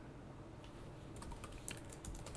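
Quiet tapping on a computer keyboard while coding, sparse at first and then a quick run of light, clicky keystrokes close by.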